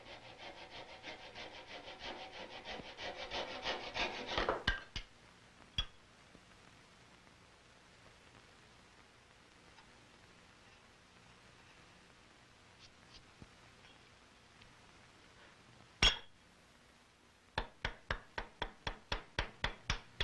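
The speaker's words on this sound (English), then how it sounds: "Keeping the chisel very sharp is important while cutting hard maple on the end grain." A sharp chisel paring hard maple end grain on a muzzleloading gun stock, heard as close rapid series of rhythmic scraping cuts, then a long quiet stretch with a couple of isolated knocks before another quick burst of strokes.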